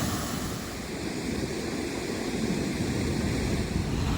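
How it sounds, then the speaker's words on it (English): Floodwater pours over the top of jammed canal lock gates on a narrowboat route, a steady, loud, unbroken roar of rushing water filling the whole moment with no voices. "Look at the water going over the top there."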